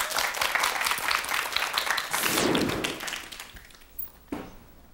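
A studio audience at a Korean TV storytelling show claps steadily and loudly, then the applause fades away into a few scattered claps and a thump near the end.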